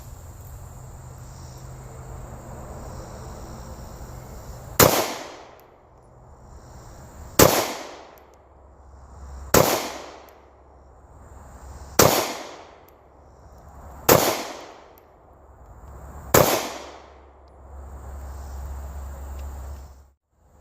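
Handgun fired at 7 yards with 147 grain HST standard pressure ammunition: six sharp, loud shots spaced a couple of seconds apart, each with a brief echoing tail over quiet outdoor background.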